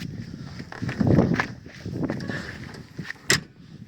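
A tractor cab door swings and shuts gently with a soft, low thud, followed by small rattles and a short clack, heard close up with no talk.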